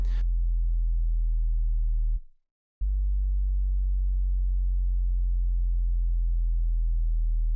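A steady, deep synthesized sine sub-bass drones loudly, cuts out briefly for a moment of silence, then resumes at the same low pitch.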